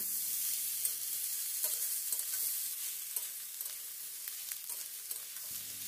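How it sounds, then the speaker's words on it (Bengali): Capsicum, beetroot and carrot stir-fry in a pan, a soft steady sizzle punctuated by a regular series of light spatula scrapes and taps, fairly quiet with no voices. "ক্যাপসিকামকে বিট, গাজরের সাথে খুব ভালো করে নেড়ে চেড়ে নিতে হবে"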